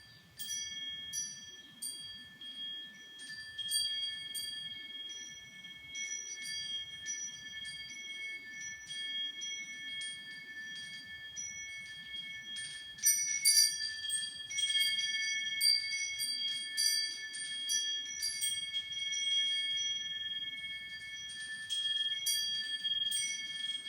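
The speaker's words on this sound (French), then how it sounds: "la sonorité du feng shui, du carillon feng shui va se mettre en place" Feng shui wind chimes ring steadily throughout, sustained metallic tones overlapping in gentle irregular strikes, swelling a little busier midway, over a soft low rumble with no talk.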